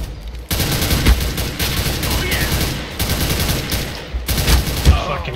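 Dense gunfire in the shooter game CS:GO, with rapid overlapping shots in loud sustained bursts broken by brief pauses.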